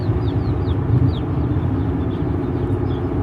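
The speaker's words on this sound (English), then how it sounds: "I can still hear the little chicks peeping in the background" A box of young chicks peeping in a moving car, repeated short high chirps scattered over a steady low road rumble.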